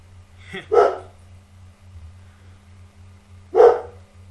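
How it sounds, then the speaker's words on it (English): Two sharp dog barks about three seconds apart, fairly close and loud, over a steady low hum. "There goes my dogs, literally just barking."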